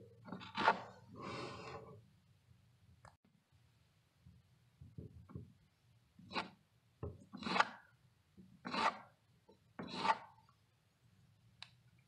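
A hand tool scrapes excess caulk from a narrow gap between a wall and stair treads, making a series of short, close, dry rasping strokes with quiet pauses between them and no talking.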